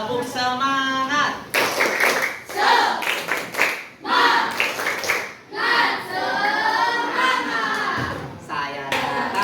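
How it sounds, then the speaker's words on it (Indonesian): Children in a classroom workshop chant in unison while clapping hands in a rhythmic spirit clap, sharp claps punctuating the repeated group chant in bursts with short pauses. "Oke, tepuk semangat"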